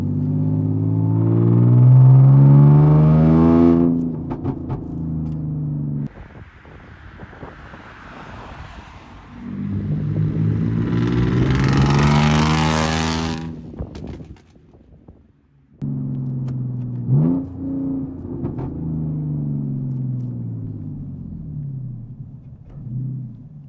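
A supercharged Audi A5 Sportback with a straight-piped exhaust accelerates hard, its loud engine note climbing in pitch through gears, with sudden drops at each shift and heavy wind buffeting over the recording.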